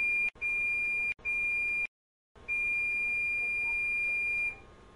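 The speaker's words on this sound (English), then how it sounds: "When the time reaches 0, the light will turn off and a long beep will sound." A teeth whitening lamp's timer gives repeated steady electronic beeps, loud and close, each a sustained tone broken by short gaps, with a brief silence midway before a longer beep.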